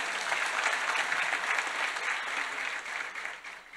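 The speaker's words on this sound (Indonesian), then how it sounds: "Tepuk tangan." An audience at a large religious dhikr gathering at an Islamic boarding school breaks into sustained applause, steady and fairly loud before tapering off slightly at the end.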